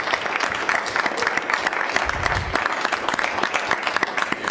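Council members and attendees at an Evanston City Council meeting applaud the city manager's ten years of service, a steady, even wash of clapping lasting the whole stretch, with faint voices underneath.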